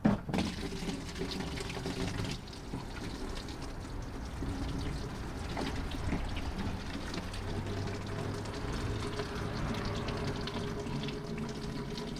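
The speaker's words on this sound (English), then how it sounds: "I'm going to put a bucket of water underneath it and drain the water out that's going to come out of it" Washer fluid drains from a Jaguar XF washer pump into a bucket, a continuous trickling, splashing stream that starts with a brief clunk and then runs steadily, no talking.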